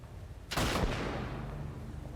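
A single gunshot goes off in The Last of Us video game, a sharp loud burst that decays quickly into a low rumble and quiet background.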